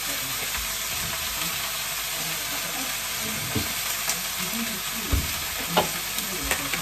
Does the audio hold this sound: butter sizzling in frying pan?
yes